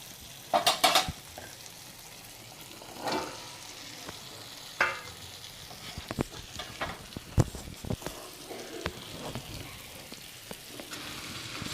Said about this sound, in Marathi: कांदा टोमॅटोमध्ये भोपळा हा व्यवस्थित परतून घ्यायचा